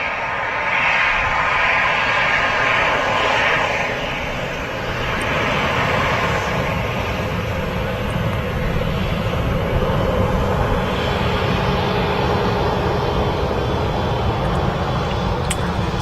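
Airbus A380 airliner at Manchester Airport, a loud steady roar of jet engines that holds for the whole stretch, close and dense, with no voices.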